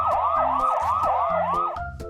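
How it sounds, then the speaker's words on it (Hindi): A loud wailing siren sweeps rapidly up and down in repeated cycles, close by, with an engine rumbling underneath. "तभी पुलिस सायरन बजाती हुई आई।"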